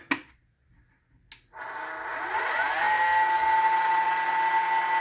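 A Hornady LNL case feeder's variable-speed motor drive spins up after a couple of sharp clicks, settling into a steady moderate whir with a faint tonal hum that continues to the end.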